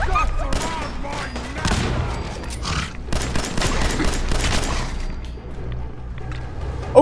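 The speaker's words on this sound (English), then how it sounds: "Shit, he's got a rocket launcher!" A Fallout 4 firefight at Fort Strong, with a rocket launcher and guns: dense, continuous bursts of gunfire and heavy booms, a loud blast right at the end, and occasional voices in the mix.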